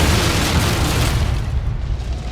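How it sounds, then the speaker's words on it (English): A heavy ship cannon boom in an Assassin's Creed 4 trailer erupts and rolls into a dense, roaring rumble that slowly thins out, loud and close. "Cannons!"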